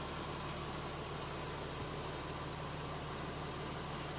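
Wrecked 2021 BMW M4 Competition idling steadily, a low engine drone with a constant hum and broadband rumble running evenly throughout, no talk over it.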